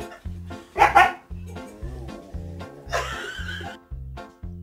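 A dog barks in a regular, rhythmic series of close, loud barks, with a higher yelping or whining burst near the start and another near the middle.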